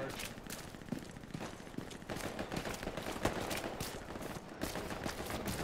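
Machine gun fire in the World War II shooter Hell Let Loose, rapid bursts and scattered gunshots crackling at moderate distance amid battle noise, with someone talking over it.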